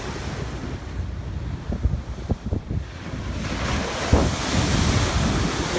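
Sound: ocean waves at Balboa Beach

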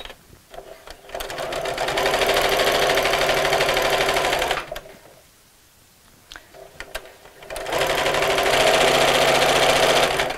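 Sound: sewing machine sewing a cushion

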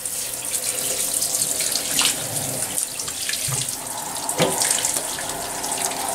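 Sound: tap running, adding cold water for dog's herbal bath

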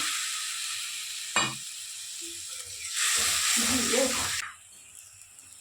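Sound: spice paste with nigella seeds frying in a pan

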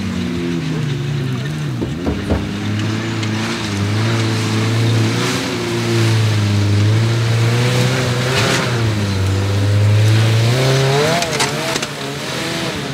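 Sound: all-wheel-drive off-road cars crossing a swampy section in a trophy raid

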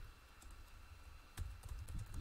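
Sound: typing on a computer keyboard

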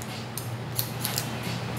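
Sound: scissors cutting hair, scissor-over-comb technique

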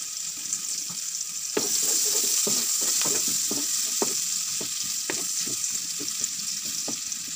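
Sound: onion frying in butter and oil

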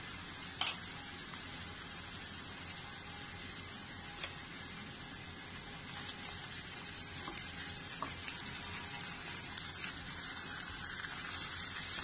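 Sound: mutton frying in a karahi

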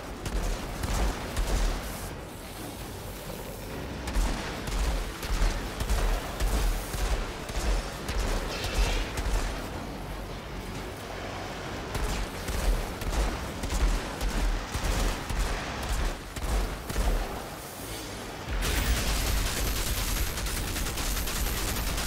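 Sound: gunfire in the video game Outriders

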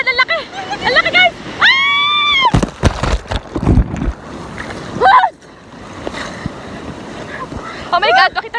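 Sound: boat riding on high ocean waves

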